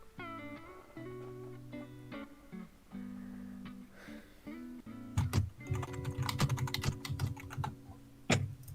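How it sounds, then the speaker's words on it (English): Someone types on a computer keyboard in quick irregular bursts of clicks and key taps, close and fairly quiet, with short pauses and a denser flurry of keystrokes toward the end. "He's just typing. You can hear the keyboard, right?"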